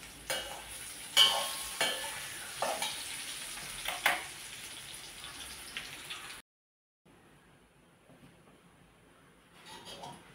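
Tempering for garlic chutney sizzles and crackles in a pan, with several sharp stirring bursts over steady frying, then a brief silence and a quieter, fainter sizzle near the end.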